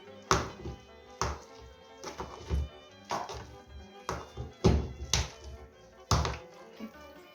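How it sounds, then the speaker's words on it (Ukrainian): Rhythmic thuds of a masher pounding boiled potatoes in a pot, about one hit per second, close and clear with no talking. "ми товчемо картошку"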